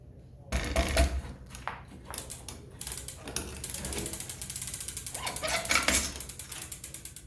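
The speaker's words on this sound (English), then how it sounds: "So I'm going to go ahead and take the whole crankset out here and show you what the problem is." Bicycle crankset from a Surly being pulled off with tools during repair of a broken carbon crank arm, giving close, repeated ratcheting clicks and metallic mechanical rattles in bursts, with no talking.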